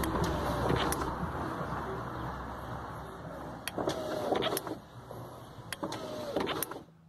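A faulty car power window motor whirs in bursts, starting, stopping and restarting several times with short clicks between runs, close by in a cabin with steady background rumble.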